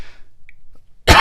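A single sharp, loud cough bursts out close to the microphone after a near-silent pause, short and harsh.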